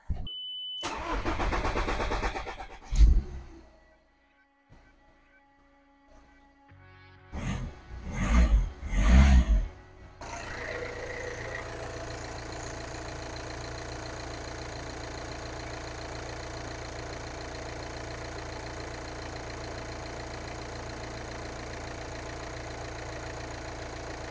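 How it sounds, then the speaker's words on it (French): Close by, the engine of a Seat Exeo or Audi A4 cranks a few times, catches, and settles into a steady idle that hums on without interruption. "on va pouvoir remettre le moteur en route"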